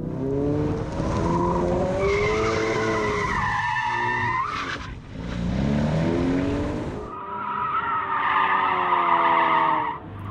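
A 2018 Ford Focus RS drifts with its tires squealing and skidding in long wavering screeches, the engine revving underneath, loud and close throughout.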